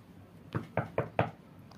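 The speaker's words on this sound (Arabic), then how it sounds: "الباب بيخبط" Four sharp knocks on a house door, close and fairly loud, evenly spaced in a quick rhythm with a brief pause before the last three.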